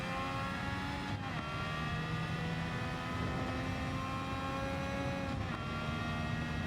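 Honda RA272 race car engine in Gran Turismo 7 at Alsace, a loud steady high-pitched whine held close throughout, with brief gear-change dips near the start and end.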